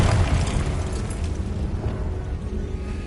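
A Confringo blast curse exploding in the Hogwarts Legacy video game: one loud, deep boom at the start that fades into a lingering low rumble, with no voices.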